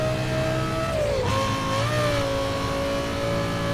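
A fourth-generation Pontiac Firebird Trans Am in the racing game Need for Speed Most Wanted revs steadily and loudly, its engine pitch dipping briefly as it shifts, then climbing and holding a sustained drone throughout.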